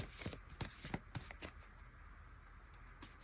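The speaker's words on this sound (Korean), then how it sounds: "카드 조금만 더 뽑아볼게요." Tarot cards shuffled and drawn during a reading, with a run of quick, soft riffling snaps and flicks clustered at the start, then faint card rustles fading out, close and fairly quiet, no talking.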